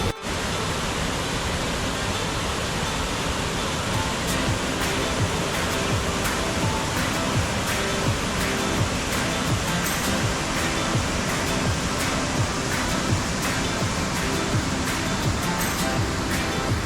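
Kumari Ella waterfall in Sri Lanka pours with a loud, steady, broadband rush of falling water, close and unbroken throughout, with no voices.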